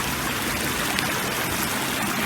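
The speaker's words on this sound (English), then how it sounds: "Oh, I just love that sound of running water." A stream's running water rushes steadily and close, a dense unbroken wash of burbling with no voices over it.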